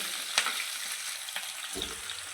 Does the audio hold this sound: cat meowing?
no